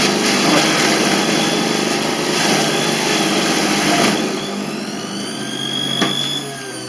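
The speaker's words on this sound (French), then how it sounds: "Vous allumez votre hachoir à la vitesse minimum pour démarrer." Silvercrest SFE 450 C1 centrifugal juicer running at minimum speed, a loud steady high-pitched motor whine that eases slightly in pitch and level partway through, with no talking.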